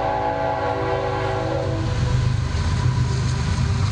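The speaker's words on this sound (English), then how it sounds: "I have a train going by" A train passes close by, its horn sounding in long steady blasts that stop partway through, then the rolling rumble of the wheels carries on, loud and continuous.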